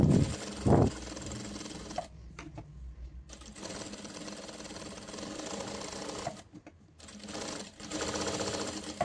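A domestic sewing machine with a P5 presser foot stitches a frill onto a frock, running in fast, steady whirring bursts separated by short pauses, close and clear, with a brief voice at the very start.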